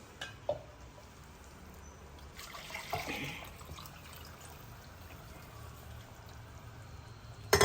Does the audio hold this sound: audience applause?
no